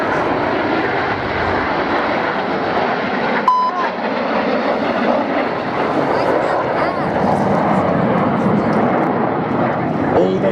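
Red Arrows jets trailing white smoke in a FlightGear Scottish airshow simulation roar past in a loud, steady engine drone, with a single short beep partway through.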